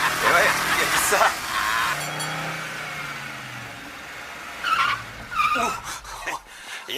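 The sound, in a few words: car tires skidding under braking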